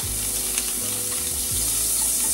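Butter sizzles in a hot pan, producing a loud, continuous crackling hiss close by that holds steady throughout over a low background drone, with no speech.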